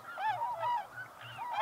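Swans on a winter lake give a series of soft, bugling honks that rise and fall in a steady rhythm, several birds calling back and forth at moderate distance with no other sound over them.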